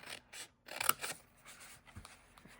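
Scissors snip through card for a jelly bean and chocolate egg treat box, a few close, crisp cuts with soft rustling of the paper between them, quiet and without talk.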